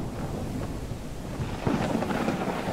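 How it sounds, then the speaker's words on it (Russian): Thunder rumbles low and steady with rain and wind in a snowy storm inside the Snow Plowing Simulator video game, a continuous wash of noise with a slightly louder roll near the end. "О, еще и гроза, нифига себе."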